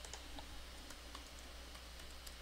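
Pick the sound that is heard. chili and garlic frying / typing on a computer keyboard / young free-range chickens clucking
typing on a computer keyboard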